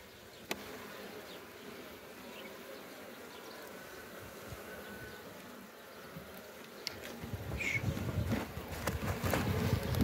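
Honeybees buzz around a hive in a continuous, faint swarm hum, with a few louder passes near the end as bees fly close.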